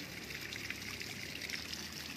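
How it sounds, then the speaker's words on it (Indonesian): Water sprinkled over the leaves of a potted durian seedling in the evening, a steady, soft trickling and splashing that continues evenly throughout, fairly faint and with no talking. "Daunnya kita siram karena sore hari"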